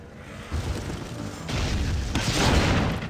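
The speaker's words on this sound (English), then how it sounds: "those little rockets he shoots are hilarious" Little rockets fired by a hero in the video game Art of Conquest: a quiet, continuous rumble of booms and small blasts that rises in waves, with no voices over it.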